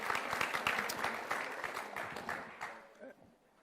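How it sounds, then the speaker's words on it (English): Audience at the 2022 Collins Cup triathlon press conference claps for the match 4 athletes, a short burst of distinct hand claps with voices mixed in, which thins out and fades toward the end. "A round of applause, please, for match 4."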